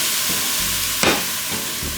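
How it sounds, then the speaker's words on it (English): Risotto with white wine is stirred in a hot pan, giving a steady, close sizzle with a brief scraping swirl of the spoon partway through. "Now you're gonna stir it up."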